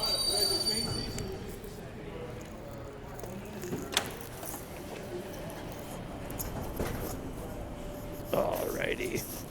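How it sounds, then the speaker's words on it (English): A commuter train rolls in on the rails with a rumbling mechanical clatter and a brief screech of wheels near the end, moderately close; a person talks over it. "All right, here comes our train."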